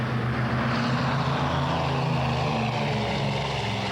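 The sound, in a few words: Douglas Skymaster propeller airliner engines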